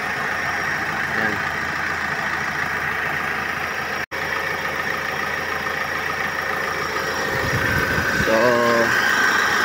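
Hyundai or Kia car idling with its clutchless air-conditioning compressor running, a steady close engine drone and hum under occasional brief talk, with a short dropout partway through.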